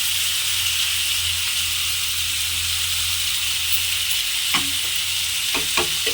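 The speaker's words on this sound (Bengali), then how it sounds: "এখন সব উপকরণগুলোকে আমি ভালোভাবে নেড়ে ছেড়ে একটু ভেজে নেব।" Puffed rice with chopped onion and potato pieces frying in a pan, a steady close sizzle throughout with a few scraping stirs of the spoon near the end.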